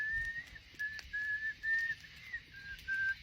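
Someone whistles a thin, wavering tune in short phrases, quiet and fairly close, over soft background noise.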